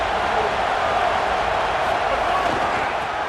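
Stadium crowd in a College Football 27 game between Georgia and Auburn, a dense, steady roar of cheering fans filling the whole stretch.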